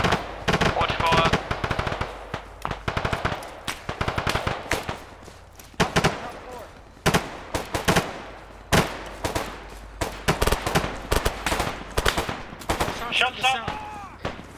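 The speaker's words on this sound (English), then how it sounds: "Taking fire. Follow my tracers." Machine gun fire in a shooter video game comes in repeated sharp bursts and single cracks, some close and loud, others more distant, with a short gap between volleys and faint voices now and then.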